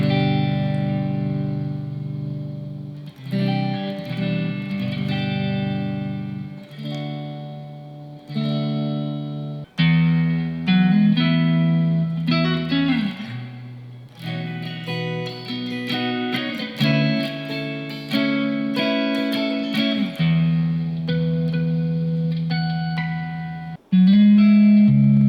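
Electric guitar on the neck pickup of a 2023 Made in Japan Heritage 60s Stratocaster plays a bluesy run of notes and chords through an effects-laden amp, sustained and continuous with brief pauses between phrases.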